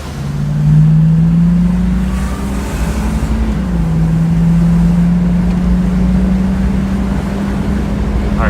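A 1972 Pontiac Firebird's engine holds a steady, loud drone while cruising at speed on a road test, with its pitch rising and falling slightly as the throttle changes and constant road and wind noise underneath.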